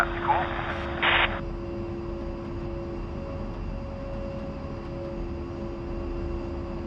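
A-10C jet's engines run in a DCS flight simulation, a steady low drone with a constant whine holding across the whole stretch, marked only by a couple of brief cockpit noises near the start.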